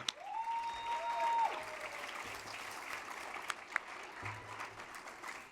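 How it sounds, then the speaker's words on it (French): Audience applause at a youth assembly report to a party general council, fairly faint and steady throughout, mixed with a tonal whistle or feedback early on and scattered room noise. "on peut applaudir"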